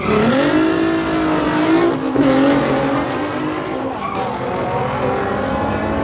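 Nissan Skyline R32 on a drag-racing run at a drag day, its engine loud and close, revving hard in a rising pitch with a brief tire squeal and a gear change partway through, then holding high revs.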